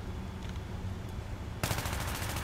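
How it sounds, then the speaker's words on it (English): Sustained full-auto fire from an AEK-971 rifle in Battlefield 3, a dense rapid stream of shots that starts abruptly and stays loud and close after a quieter stretch of background game noise. "So let's go ahead and just let this gun go full auto, and no controlling the recoil"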